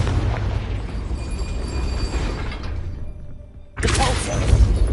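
A Confringo spell blast in Hogwarts Legacy, a low rumbling roar that fades to near quiet before a sudden loud burst hits near the end and keeps booming.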